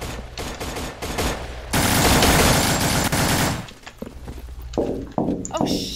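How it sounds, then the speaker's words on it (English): Rapid gunfire from Half-Life 2 Deathmatch rings out in close bursts, with a dense sustained volley in the middle and sharp separate shots on either side, while players talk over it. "I'm fucking blazing through bullets right now, dude."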